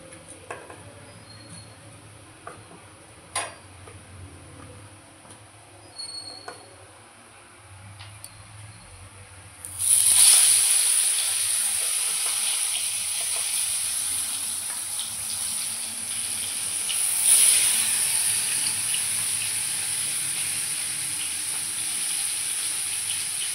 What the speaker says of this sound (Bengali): তেলটা গরম হয়ে গেছে, আমি মাছটাকে ফ্রাই করব।